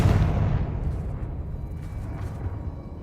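A Confringo explosive spell from Hogwarts Legacy bursts loudly at the start, a deep blast that decays into a rumbling roar over a few seconds with no one speaking.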